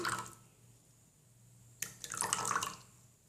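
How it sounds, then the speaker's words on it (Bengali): Quiet at first, then a short burst of water pouring and splashing into a small container of vinegar close by, lasting under a second. "তিন টেবিল চামচ পানি মিশিয়ে নিচ্ছি"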